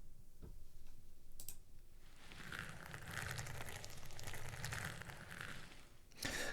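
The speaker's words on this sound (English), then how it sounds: "you get that nice sort of scrubby concrete sound" A scrubby concrete surface sound effect for a video game, like tires rolling over little stones. It is a faint, steady, gritty crackle and rustle with scattered ticks, heard alone for about six seconds.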